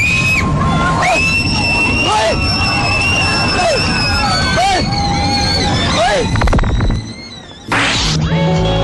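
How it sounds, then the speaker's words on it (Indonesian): A woman screams in long, high, sustained shrieks over a loud, chaotic din of clattering and shouting, with crashing bursts near the end as things fall. "Hingga akhirnya ia berteriak dan menjatuhkan barang-barang di sekitarnya."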